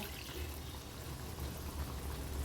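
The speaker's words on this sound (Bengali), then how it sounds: "এবার এতে একটু জল অ্যাড করে দেব।" Water poured into chicken masala simmering in a pan for chicken chap, a faint, steady liquid rush over low background rumble.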